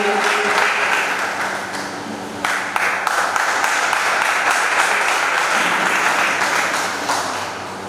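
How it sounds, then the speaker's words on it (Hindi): A crowd at a Rashtra Chetna Yatra event in Gurgaon, Haryana claps to welcome a guest, a sustained, dense wash of applause that dips slightly midway and then swells again with sharper individual claps. "चंद्रदेव स्वामी जी का स्वागत कर रहे हैं तालियों के जोरदार करतब होने के साथ।"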